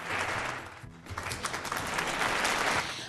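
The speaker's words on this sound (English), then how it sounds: "so I'll give you a round of applause" A short burst of crowd applause plays as a sound effect during a Saturday morning radio science quiz, a steady, even wash of clapping lasting about three seconds with no voices over it.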